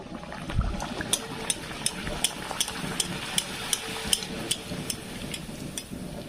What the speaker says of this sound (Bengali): এবার লুচিগুলো একটা একটা করে দিয়ে ভেজে নেব